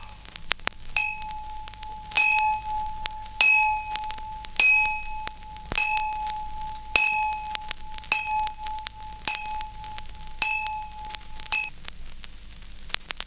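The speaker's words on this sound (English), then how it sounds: "It's school bells." School bells strike in a steady rhythm of bright metallic dings about once a second, each ringing briefly, over a faint hiss of old radio recording static.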